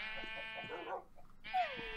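Sheep bleating in a pen in a video game, two short, nasal bleats separated by a brief pause, the second wavering and falling in pitch, fairly quiet and alone.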